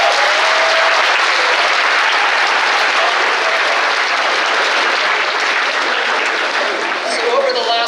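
Audience applause fills a convocation hall, a dense, steady wash of clapping that holds loud and unbroken throughout, with a few voices rising faintly near the end.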